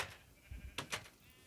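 A Minecraft sheep in a pen bleats briefly, a couple of short wavering calls, faint and fairly close, with quiet background.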